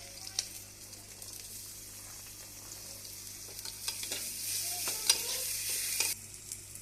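Ginger garlic paste sizzles in a pan with browned onion and green chili while being stirred, giving a soft steady frying hiss broken by scraping spoon strokes, with no voices.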